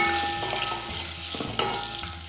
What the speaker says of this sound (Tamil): ஒரு 30 செகண்ட் வந்து இந்த எண்ணெயில் வந்து முட்டையை நல்லா வறுத்துக்கலாம்.